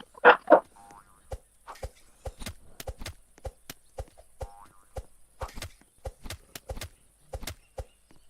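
Frogs croak in the Roblox survival game 99 Nights in the Forest. After a louder opening burst, clipped croaks and clicks repeat in an irregular, busy rhythm against an otherwise quiet background.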